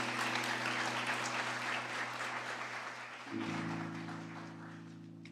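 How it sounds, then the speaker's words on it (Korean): Church congregation applauding at a baptism ceremony as a member comes forward, a steady wash of many hands clapping over a sustained organ or keyboard chord that shifts partway through, fading slightly toward the end. "뜨겁게 사랑의 박수로 맞이해 주시면 감사하겠습니다"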